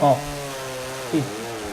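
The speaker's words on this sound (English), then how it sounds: "We have the chainsaw. We just take a block up on the top and we'll cut a piece" A chainsaw cuts a block of harvested lake ice, running as a steady, close engine drone with two short revs, one at the start and one near the end.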